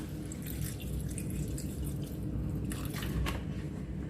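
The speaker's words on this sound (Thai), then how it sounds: "เอาน้ำเปล่าใส่นิดนึง" Plain water poured into a pot of Thai beef curry (kaeng om), a steady close watery splashing and dripping that runs continuously with no speech.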